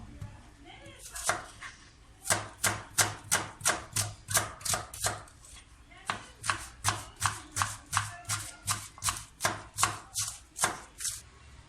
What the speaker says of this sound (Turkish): Şimdi soğanlarımı doğrayacağım.